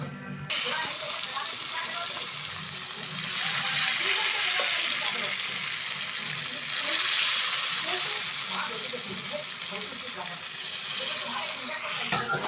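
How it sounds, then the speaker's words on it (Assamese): Bora fritters frying in hot oil in a home kitchen: a steady, hissing sizzle that holds for several seconds, swelling slightly in the middle and staying moderately quiet. "আৰু এতিয়া তেল দি দিলোঁ আৰু এইখিনি বৰাখিনি ভাজিবলৈ ওলাইছোঁ মই।"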